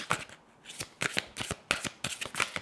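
Tarot cards being shuffled close up, quiet crisp riffling bursts in an irregular rhythm with short pauses, no talking.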